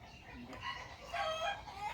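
A chicken clucks and calls in short bursts against a noisy outdoor background, fairly close but not loud; the chicken is alive after a shot fired near it.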